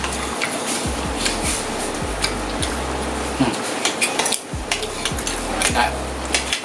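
Cutlery clinks and scrapes against dishes during a meal of stir-fried squid with holy basil, a close run of sharp, irregular taps and rattles, with brief ringing tones and no talking.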